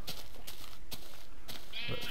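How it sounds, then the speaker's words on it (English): Blocky Minecraft sheep bleat in the game, a short wavering call near the end after a few soft footstep-like thuds, fairly close and moderately loud. "Sheep."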